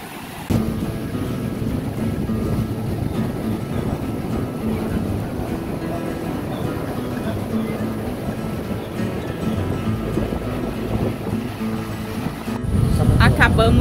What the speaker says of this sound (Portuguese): Acabamos de sair do mar e o mar tava com muito forte hoje.